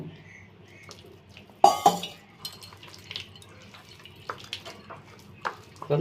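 Water is poured little by little into gram flour batter in a bowl for potato chop, heard as faint trickles and a sudden splashing burst, then scattered small drips and clinks in a quiet room.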